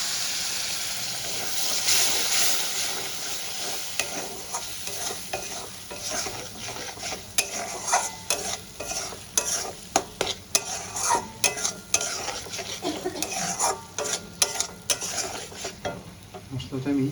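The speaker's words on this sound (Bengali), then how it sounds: "মশলাটা আমি কষিয়ে নেব।" Spice paste with a splash of added water is stirred and fried in a karahi for a chicken dish, with a steady sizzle under frequent scraping strokes of a spoon against the pan, close and continuous, with no talking.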